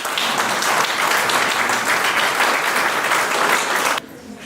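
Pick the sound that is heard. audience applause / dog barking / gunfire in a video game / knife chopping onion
audience applause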